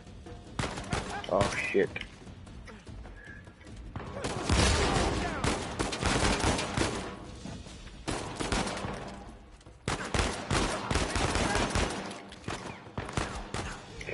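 Blind-fire gunfire in the Uncharted 4 video game on crushing difficulty: dense, loud bursts of automatic shots and fusillades that roll on for several seconds, break briefly, then resume, with a man exclaiming over the action.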